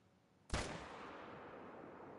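A single rifle shot fired during a fallow deer hunt cracks out sharply and close, followed by a long rolling echo that fades slowly across open country, with no voices.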